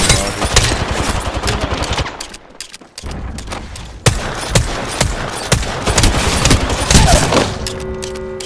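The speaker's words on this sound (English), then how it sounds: "Shoot all the fucking Mirage" Rapid, dense gunfire from weapons shooting at the Mirage character in the Apex Legends video game. Loud near bursts of automatic fire run almost continuously, with a short lull partway through before the shooting resumes.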